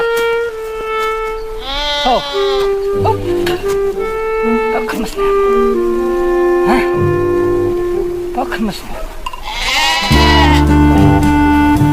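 Sheep in snow in the wilderness bleat repeatedly, several animals calling with wavering cries, some close and loud, others overlapping in the background.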